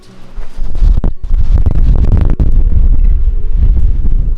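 Strong wind on a mountain summit buffets the microphone in loud, rumbling gusts that nearly fill the whole stretch, with only brief lulls.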